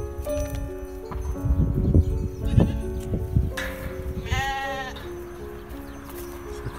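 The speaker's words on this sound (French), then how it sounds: "Des chèvres qui se sont mis à l'ombre là." Goats resting in the shade outdoors in rural Portugal let out a wavering bleat from a moderate distance, amid footsteps, rustling and other outdoor sounds.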